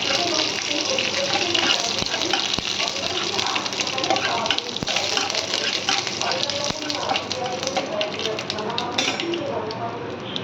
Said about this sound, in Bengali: এখানে আছে সর্ষে, কারি পাতা আর শুকনো লঙ্কা। এই ফোড়নটা খুব ভালো করে ভাজা ভাজা হবে।